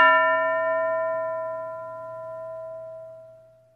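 A single classroom bell is struck once, a loud clear metallic ring that decays slowly over several seconds with no talking.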